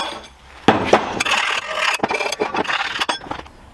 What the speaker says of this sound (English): Clean off the burrs a bit and then I can put it on.